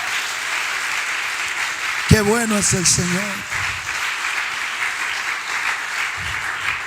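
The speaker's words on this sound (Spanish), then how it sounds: "Dele un aplauso al Señor Jesús." Congregation at a church service applauds in a steady, dense wash of clapping throughout, while a voice speaks briefly over it partway through.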